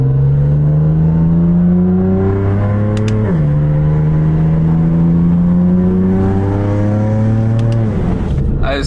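A BMW F80 M3 engine revs hard in a steady, loud drone that climbs in pitch, drops briefly at a shift, then climbs again before cutting off near the end.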